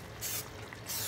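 Two short hissing sprays of butter spray, close and fairly soft, separated by a brief pause, with no talking.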